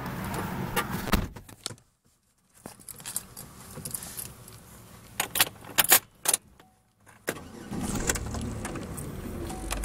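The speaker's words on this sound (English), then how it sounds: "let's crank it up and hear it run" A 2007 Chevrolet Impala LT is cranked and started, with jangling keys and clunks before the engine catches and settles into a steady idle; the sounds come up close, with brief gaps between bursts.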